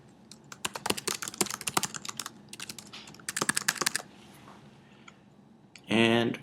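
An email address is typed on a computer keyboard in quick, crisp bursts of close keystrokes that pause briefly between groups, followed by a short loud burst of a different sound near the end.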